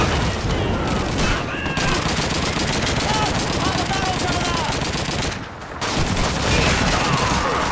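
MG-42 machine gun fire in the World War II video game Call of Duty 2, set in France, comes as dense, rapid bursts that run almost continuously with two short pauses, loud and close amid battle noise.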